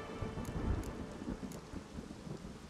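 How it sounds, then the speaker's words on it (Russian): Thunderstorm in The Witcher 3: Wild Hunt video game: steady heavy rain with deep rolling thunder rumbling underneath, joined by a few short crackles, continuous and fairly loud with no talking. "Отсюда гроза. Гроза, которую я обещал остановить."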